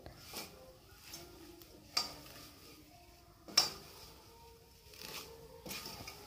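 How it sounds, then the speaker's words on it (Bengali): Vermicelli frying in a pan over a medium flame for sheer khurma, turned over with two spoons: faint, scattered metallic clinks and scrapes at irregular intervals, with no talking. "আমিও দুটো চামচ দিয়ে আমি এইভাবে উল্টিয়ে পাল্টে আমি শিমুইটাকে ভেজে নিচ্ছি"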